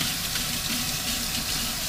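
Steady rush of water running from a kitchen tap into a sink, close and continuous throughout with no pauses or voices.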